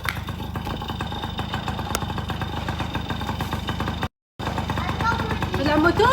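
Motorcycle engine idles with a steady, rapid low putter that runs continuously, broken by one brief cut, while voices talk nearby.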